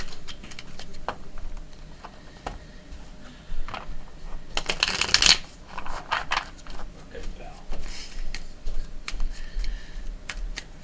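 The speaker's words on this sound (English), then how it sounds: "I'll shuffle them again." Tarot cards being shuffled by hand, quiet ticking card flicks and one louder riffle burst near the middle, close and dry with sparse soft taps.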